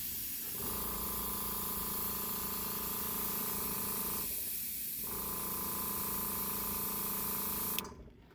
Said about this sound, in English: So we'll give the airbrush a quick test to see if it's going to work.